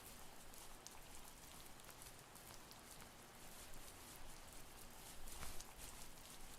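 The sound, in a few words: soft rain pattering in a video game (The First Tree)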